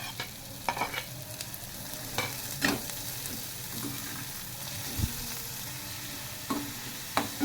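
Onions frying in a pan give a soft, steady sizzle, broken by scattered scraping stirs and clinks of a utensil against the pan, all fairly quiet and close.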